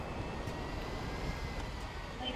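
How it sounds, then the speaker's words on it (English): Airplane engine in the video game GTA 5, a steady broadband roar that holds at even loudness throughout with no break, while players talk over it. "Alright, I'm gonna drive the plane."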